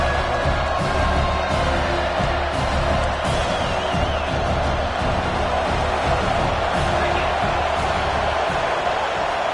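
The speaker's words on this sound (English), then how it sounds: "And with this place rocking, the crowd forces a false start." Stadium crowd at a college football game, a dense sustained roar of many voices and cheering that stays loud throughout, with a few scattered whoops.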